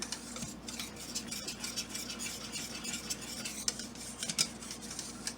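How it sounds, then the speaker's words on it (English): A spoon stirring grated Parmesan into a thickened sauce in a pan for chicken cordon bleu: soft repeated scraping and light metallic clinks over a faint low simmer, close but quiet, no talking. "what I'm going to do is add 1/4 cup of grated Parmesan. And you want to stir that in until it's melted."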